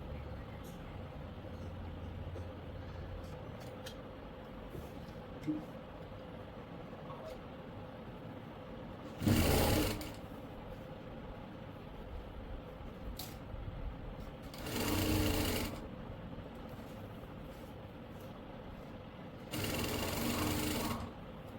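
A sewing machine stitches kurti fabric in three short, loud bursts of rapid whirring, spaced well apart, over a low, steady background hum.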